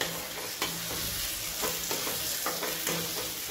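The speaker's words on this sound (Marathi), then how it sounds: "आता छान असं मिक्स करूया।" Sweet semolina sheera being stirred in a pan on the stove, a spoon scraping and turning the thick mixture in steady repeated strokes with a faint sizzle underneath, close by and with no voices.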